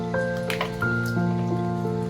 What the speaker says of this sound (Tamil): காளானை நல்ல தூசி இருக்குது, அதனால நம்ம ஃபஸ்ட்டு ஒரு தண்ணியில் கழுவி எடுத்துடலாம்.